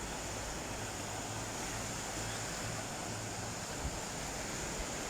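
Sea waves washing onto Varadero beach in Cuba, a continuous broad rushing surf roar with a steady low rumble underneath, no voices.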